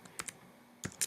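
A few separate computer keyboard keystrokes, two quick taps, a pause, then two more, close and fairly quiet in a still room while a reason is typed into a student pointer questionnaire.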